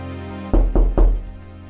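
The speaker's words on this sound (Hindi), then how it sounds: "तभी दरवाजे पर किसी ने दस्तक दी।" Three firm knocks on a wooden door on a stormy night, evenly spaced and loud, followed by a brief faint tail with no talking.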